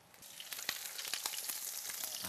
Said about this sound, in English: We're going to throw in the onions